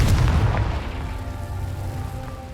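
A Confringo fire spell from the Hogwarts Legacy video game bursts in a loud, booming explosion at the start, with a rumbling tail that fades slowly over the next couple of seconds.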